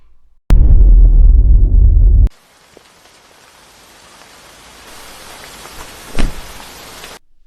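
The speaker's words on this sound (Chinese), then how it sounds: "别看着了，下这么大雨" Heavy rain pours down in a steady, broad hiss after a brief loud, low rumbling burst at the start, with no one speaking.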